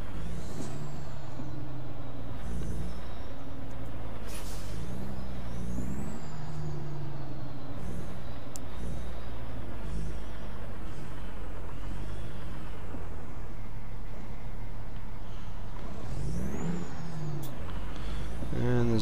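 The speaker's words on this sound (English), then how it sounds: "And there's a bus coming." A bus rolls past on a street with loud hissing air-brake releases near the start and end, over steady engine rumble, while a person talks nearby.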